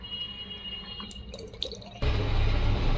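Water runs from a tap in a hostel, first faint trickling and dripping, then a sudden loud steady gush of flowing water that fills the rest of the sound.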